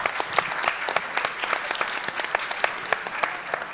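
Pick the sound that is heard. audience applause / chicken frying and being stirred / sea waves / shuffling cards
audience applause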